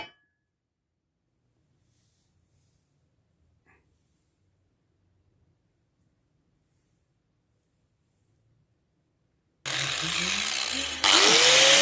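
Power tool polishing a reforged Kanefusa saw blade turned into a sickle, starting abruptly and loud after a long near-silent stretch, a steady whirring grind that rises in pitch near the end.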